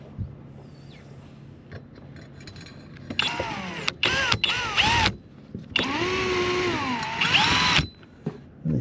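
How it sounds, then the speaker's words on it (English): A power drill whines in several bursts, its pitch rising and sagging under load as it bites into the metal of a Honda Odyssey van, with quieter gaps between runs. "Should get your drill bit in there center"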